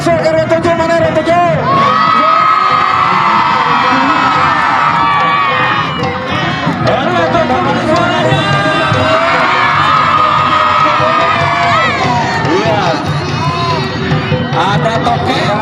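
A large crowd at a village carnival parade for Indonesian Independence Day cheers and shouts loudly and continuously, with children's yells and whoops over a dense babble of voices.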